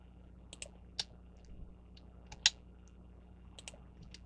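A computer keyboard gets scattered individual key presses while someone works in SketchUp, sharp close clicks spaced irregularly over a quiet electrical hum.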